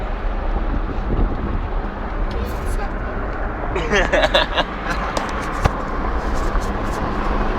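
Wind buffets the microphone outdoors on a camping trip in Davao, Philippines, a constant loud rumbling roar under people talking and laughing nearby.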